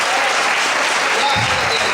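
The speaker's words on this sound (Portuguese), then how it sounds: "Vamos ocupar sua mão e aplaudir o Senhor em forte." A church congregation claps loudly and steadily, a dense wash of applause filling the room for the whole stretch, with a voice faintly underneath.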